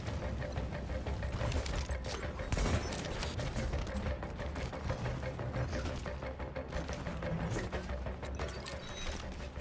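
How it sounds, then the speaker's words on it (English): Gunfire in The Division video game rattles in rapid, continuous bursts with mechanical clatter, dense and steady throughout, with no talking. "There's gunfire there."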